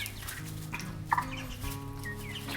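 Chickens on a Bishopville, Delmarva farm cluck and murmur in a low, busy flock chatter, with one brief louder squawk.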